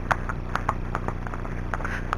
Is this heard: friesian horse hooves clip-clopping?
yes